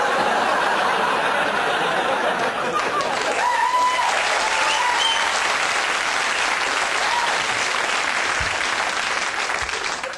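A studio audience claps and applauds loudly and continuously, with a few chuckles mixed in.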